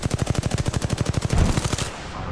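Rapid automatic gunfire in the Apex Legends video game, a fast even burst of about twenty close, loud shots that cuts off, leaving a brief noisy tail.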